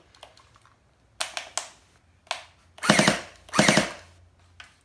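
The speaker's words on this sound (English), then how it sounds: "I love that burst fire, that's pretty cool." An SKD M4 toy gel blaster fires close by, first in short rapid bursts, then in two longer rattling volleys with brief pauses between.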